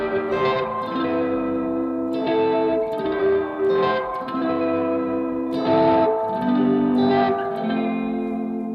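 Electric guitar chords ring through a tape-age lo-fi effect pedal set to a darker, worn-out tape sound, with wobbling, chorused, reverberant tone across a slow strummed progression and no voices.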